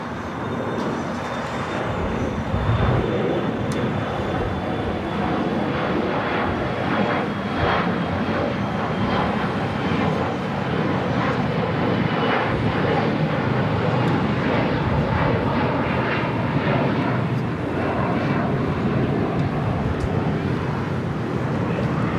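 A United Express SkyWest Embraer E175 jet takes off from runway 25 right at LAX, a loud sustained engine roar building and holding steady for over twenty seconds, with some wind noise and no talk.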